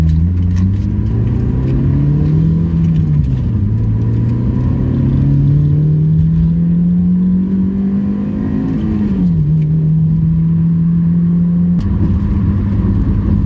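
A Honda Fit GE8 engine hums steadily while driving along a wavy road, its pitch rising and falling gently with small changes in speed, close and continuous throughout.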